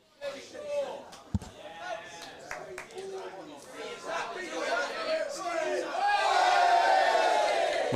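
A crowd at an FA Youth Cup under-18s football match, Hampton & Richmond against Badshot Lea, shouts and cheers, building to a louder sustained roar toward the end, with commentary voices talking throughout.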